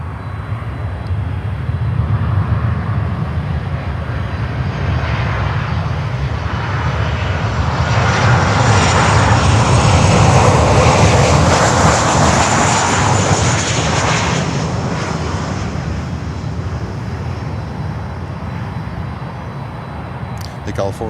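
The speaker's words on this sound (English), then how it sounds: "The Gulf 4 they just departed for Lauderdale Executive." A Gulfstream IV business jet departs from Miami, its engines building to a loud, sustained roar that peaks midway and slowly recedes, with people talking over it.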